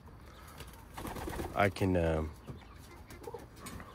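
Pigeons cooing in a loft that houses breeding birds, soft low calls heard close by with a short stretch of a man's speech over them.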